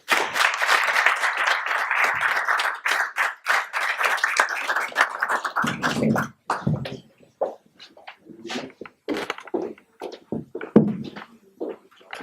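Audience applause at the Forge Forward 2015 conference award session, a dense burst of clapping that thins after about six seconds into scattered claps with some talk.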